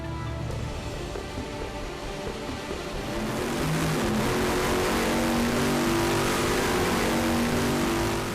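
Bugatti Veyron engine revving, a dense, steady roar that swells louder about halfway through and holds at full volume to the end.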